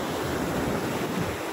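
Sea waves wash onto the shore at Quezon in the Philippines as a steady broadband rush mixed with wind noise on the microphone, with no voices.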